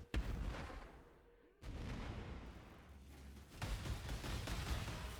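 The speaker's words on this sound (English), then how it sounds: "We'll wait for the explosion." Blade Blast dagger detonations in Path of Exile go off as several booming blasts: one sharp burst at the start, another after a brief silence and a heavier cluster near the end, with a muffled rumble between them.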